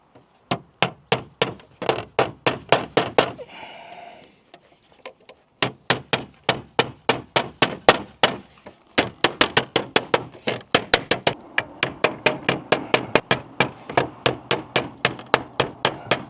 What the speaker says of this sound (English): Bash some nails in.